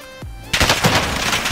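Gunfire in Call of Duty: Warzone on the Caldera map: a low thump, then a sudden loud burst of rapid automatic shots crackling close by, continuing in a dense rattle to the end.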